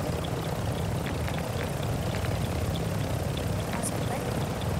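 A helicopter flies in Call of Duty Warzone 2.0 DMZ, its steady rotor and engine drone droning continuously under players talking.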